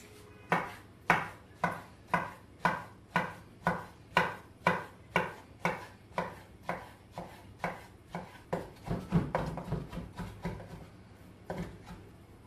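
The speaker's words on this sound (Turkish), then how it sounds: "sebzelerimizi doğramaya başlıyoruz" A knife chops vegetables steadily on a board, about twenty evenly spaced strokes that quicken and grow busier toward the end.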